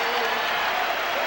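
Basketball arena crowd at a Celtics versus Trail Blazers game, a dense sustained roar of cheering and applause filling the whole moment at full loudness.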